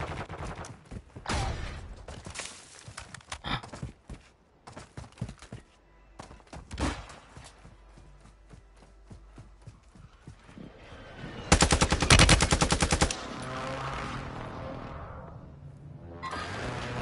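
Heavy automatic gunfire in the Warzone video game, rapid bursts and single shots crackling throughout, with a loud, dense volley near the middle and end.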